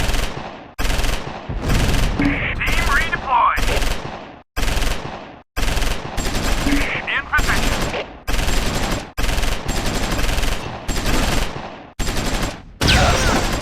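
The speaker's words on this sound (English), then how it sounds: "Sterling's Stuart tank is putting machine gun fire onto the tank crews to the southeast." Bursts of machine gun fire from a Stuart tank in Close Combat 4, a Battle of the Bulge fight at Weiler, 1944: repeated loud rattling volleys with short silent gaps, the battle din going on steadily throughout.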